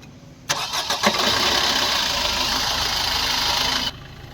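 A 2013 Maruti Suzuki Ertiga VDi diesel engine cranks and catches after a brief pause, then settles into a steady, loud idle that cuts off abruptly near the end.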